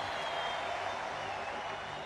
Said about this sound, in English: Let's have a warm round of applause for Glimmer!